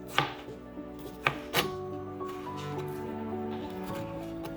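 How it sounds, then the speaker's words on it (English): A knife chops vegetables on a board into small pieces, a few loud, close thuds near the start, then fading under a sustained tonal hum, with no talk. "You want to rough chop it and then cut it to small pieces."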